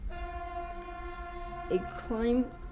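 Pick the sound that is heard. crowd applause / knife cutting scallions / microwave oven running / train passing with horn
train passing with horn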